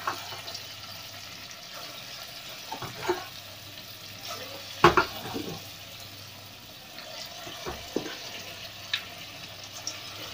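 Dahi bhalla batter dropped into hot oil over a medium flame, frying with a continuous close sizzle, broken by a few louder splashy bursts as the rounds go in.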